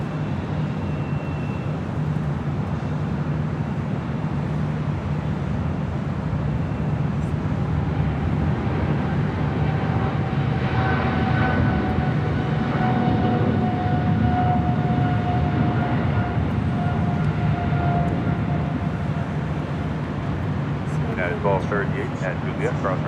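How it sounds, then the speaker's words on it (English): A China Airlines Cargo Boeing 777 freighter inbound from Taipei passes directly overhead on approach to Los Angeles International Airport, a loud continuous engine roar and whine sustained throughout, with a rising tone near the end. "China Airlines Cargo, Flight 5108, coming in from Taipei, a 777 freighter flying over us directly here at the H."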